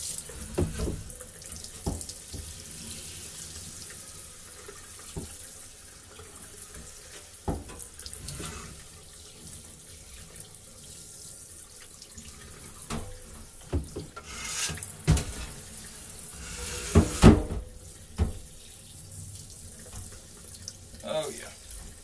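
Water runs from a tap over a fire extinguisher being rinsed after finishing work, a steady splashing flow with a few louder bursts near the end, nearby and unaccompanied by talk.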